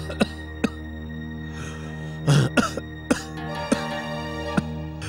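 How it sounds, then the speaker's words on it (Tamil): Several short, sharp coughs spaced out over a steady low hum, with a harsher throaty cough cluster in the middle. "ஏன் இருமல் குறையவே மாட்டேங்குது?"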